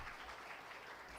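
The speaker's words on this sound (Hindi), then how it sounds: "आप सभी जोरदार तालियां बजा दीजिए मास्टर अनय सिंह के लिए" Audience applause for Master Anay Singh at a student achievers' award ceremony, a faint, steady spread of clapping from a crowd heard from a distance, brief and even.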